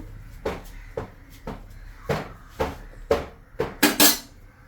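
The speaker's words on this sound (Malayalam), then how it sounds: "ഒന്ന് ചട്ടി അടുപ്പത്ത് വെച്ചു" Several clattering knocks of a clay pot being set down on a stove and shifted, irregularly spaced, ending with a louder scraping clank; no voices.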